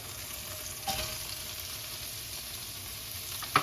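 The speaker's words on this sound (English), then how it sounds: "We want this pan ripping hot here. We're going to add a little bit more avocado oil. Maybe a tablespoon or 2 more. And then we're going to add in our onions" Onions frying in a ripping hot pan with avocado oil for a chicken stir-fry, a steady close sizzle with a brief stirring scrape near the start and a sharp clink at the end.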